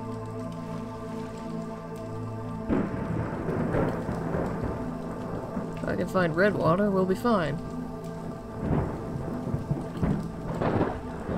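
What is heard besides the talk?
thunderstorm with rain in video game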